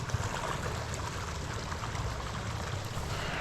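A stream runs through a Swedish forest, a steady broadband rush of water that stays even and unbroken, close and moderately loud, with no voices over it.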